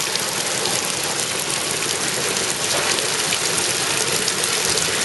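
Water pours down a small artificial waterfall built into a nativity scene with a lake, making a steady, close, continuous splashing rush with no pauses and no voices.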